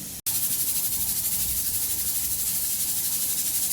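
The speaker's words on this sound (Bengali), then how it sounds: "কুকারে সিটি হচ্ছে, সেদ্ধ হয়ে যাচ্ছে প্রায়।" A pressure cooker steams during cooking, giving a loud continuous hiss with a fast, steady pulsing flutter. It starts just after a brief cut near the beginning and carries on alone with no speech.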